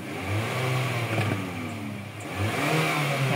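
A car engine is revved with the throttle pedal in several smooth rising and falling sweeps, steady and fairly close with a low idle hum between the revs.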